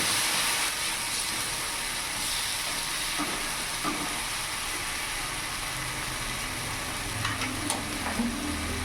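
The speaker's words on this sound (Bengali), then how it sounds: "টমেটো পেস্টটা পুরোটা দিয়ে দেবো ভালো করে সব উপকরণগুলো আমি একসাথে মিশিয়ে নেব" Tomato paste stirred into a sizzling masala in a pan for a duck egg and baby potato curry, a constant close hiss of frying with occasional soft spatula scrapes; nobody speaks.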